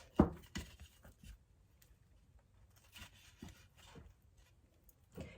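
Lacing cord rubs and rasps as it is drawn through a four-direction drum, in short scraping pulls with a sharp knock at the start and gaps between strokes, close and quiet.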